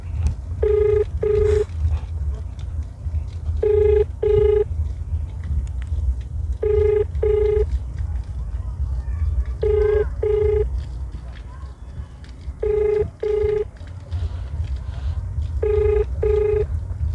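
A telephone ringback tone repeats in paired bursts about every three seconds, six times, while calling a DTP department, over a low background murmur.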